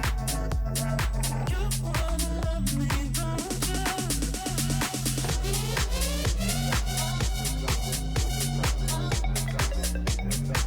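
Two electronic dance tracks play together in a DJ mix, one a step up on the Camelot wheel, with a steady pounding beat and layered synth harmonics.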